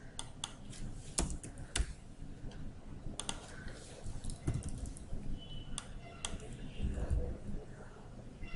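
Keys on a computer keyboard clack in quick irregular bursts, close and fairly quiet, as text is typed into a demo application's input field, with faint background voice.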